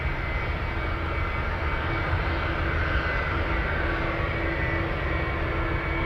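Aircraft engines spool up at Anchorage airport in a constant, loud, rumbling roar with a faint steady whine running through it.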